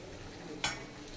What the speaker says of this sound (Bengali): আমি আর একটু কষিয়ে নেব।